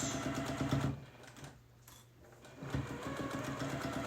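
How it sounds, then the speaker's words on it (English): A sewing machine stitching fabric with a quick back stitch: rapid mechanical whirring, a pause near the middle, then the stitching resumes, close and fairly quiet. "continue stitching, back stitch, and finish off"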